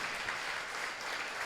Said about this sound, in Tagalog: Palakpakan po natin ang Diyos